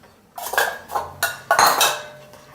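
Milk powder peda mixture stirred in a bowl with a spoon, giving four or five sharp clinks and scrapes against the dish at an uneven pace, close and fairly quiet.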